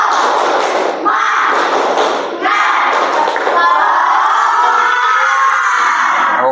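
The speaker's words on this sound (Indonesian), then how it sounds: "Coba tepuk semangat." A classroom of schoolchildren performs a spirit clap, rhythmic bursts of loud group clapping and thumping broken by short pauses, ending in shouted cheering from the young voices.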